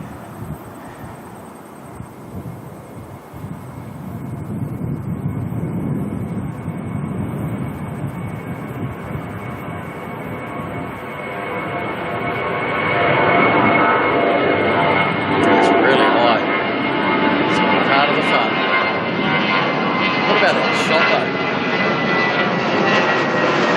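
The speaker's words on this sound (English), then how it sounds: "we have got a departure here now. Solomon Airline heading off to Port Vila." A Solomon Airlines airliner departs Auckland Airport, its engine roar building from a distant rumble to a loud sustained blast with wind buffeting the microphone and a voice heard over it.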